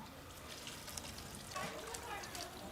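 Fresh peppers being rinsed by hand in water for pickling, a soft continuous trickle and splash with brief sloshes, fairly quiet and close, with low background noise.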